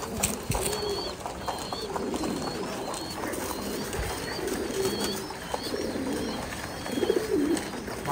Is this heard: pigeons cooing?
yes